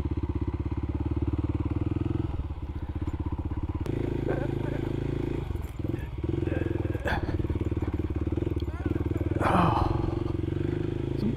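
A Kawasaki KLX300 dual-sport motorcycle rides a rocky riverside road along the Jack's Fork River in the Missouri Ozarks, its engine thrumming steadily and close with clattering and thumps over rough ground while people talk over it.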